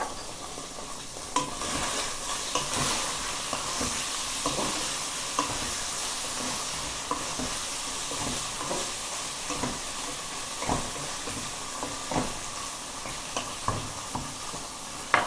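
Tofu fries with sweet paprika and turmeric in a pan, a constant loud sizzle broken by frequent scraping and clacks of stirring, close up and without voices.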